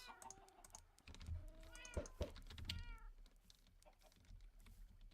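Cats in a Minecraft game meow several times, with short rising and falling cries clustered in the middle, over steady clicking of a computer keyboard and no talking.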